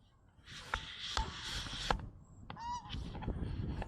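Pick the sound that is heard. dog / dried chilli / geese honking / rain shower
geese honking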